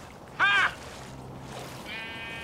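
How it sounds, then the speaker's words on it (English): A sheep in Minecraft: Story Mode gives one short, loud bleat over a low ambient bed, with a fainter tonal sound near the end. "And the sheep's here too."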